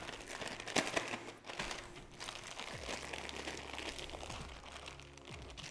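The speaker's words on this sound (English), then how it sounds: "all I'm going to do is I'm going to pop into a Ziploc bag" A plastic Ziploc bag crinkles softly and steadily as raw chicken breast is packed into it, a quiet rustling that runs throughout without talk.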